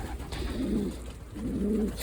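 A young pigeon in a loft gives two soft, low coos in succession, close and alone against a quiet background hum.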